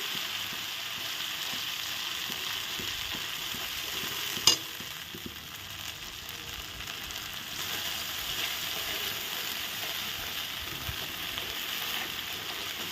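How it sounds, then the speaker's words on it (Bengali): Ground paste of fried onion, cashew and garlic sautéing in a pan for fish rezala, an even, steady sizzle with soft stirring scrapes and one sharp utensil clink partway through. "দেখো এখন ভালো করে একটু কষিয়ে নিচ্ছি মশলাটা"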